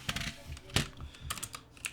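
Quick bursts of keystrokes on a computer keyboard, a handful of close clicks over two seconds with one heavier thump, fairly quiet and without talk.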